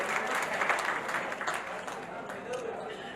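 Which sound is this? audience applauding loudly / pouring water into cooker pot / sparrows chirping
audience applauding loudly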